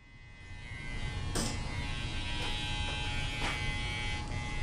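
Electric hair clippers fitted with a number 2 guard on an Apprentice master chair in a barbershop, a steady close buzz starting faint and then running loud and even, with a few brief scraping bursts as the guard passes through hair.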